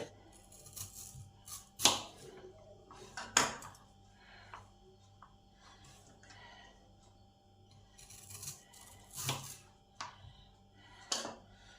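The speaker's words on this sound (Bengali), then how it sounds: "এবার থোরটাকে পাতলা করে কুচিয়ে নিতে হবে" A knife chops banana stem thinly in a quiet kitchen, giving a few faint, scattered cutting strokes with soft rubbing between them and no talk.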